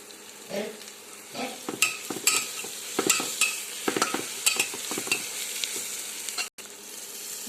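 Masala rice frying in oil in a pan, stirred with a spoon, giving repeated scraping stirs over a steady close sizzle, with no talk.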